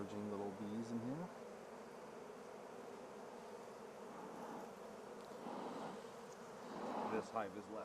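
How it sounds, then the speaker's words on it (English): Honeybees buzz in a dense, agitated swarm from an open, queenless hive, a continuous close drone with individual bees whining past at the start and end, and faint voices in the background. "Oh, emerging little bees in here."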